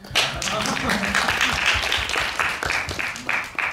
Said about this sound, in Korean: 박수 칠까요?